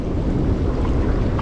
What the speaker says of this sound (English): it's very cold, it's very windy out here